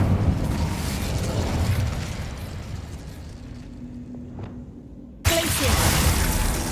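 An Incendio fire spell cast in the game Hogwarts Legacy, a loud rushing fiery burst that fades into a hissing tail and then breaks into a sudden new crackling roar near the end.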